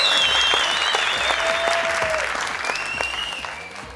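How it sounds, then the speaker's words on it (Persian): Studio audience applause on a televised Afghan Family Feud-style game show, a dense, steady wash of clapping lasting several seconds and slowly tapering, with a few faint tones over it. "دوستا تشویقشان کنید"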